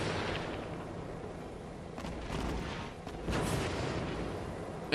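Dense, continuous rumble of rocket artillery barrage from an MLRS in the zombie strategy game Cepheus Protocol, with overlapping blasts swelling louder midway and staying heavy throughout.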